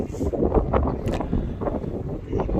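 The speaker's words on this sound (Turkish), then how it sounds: "Çok kuvvetli bir rüzgar var." Strong, steady wind buffeting the microphone on a bridge at the Schlachte in Bremen, a continuous low rumbling roar with gusty swells throughout.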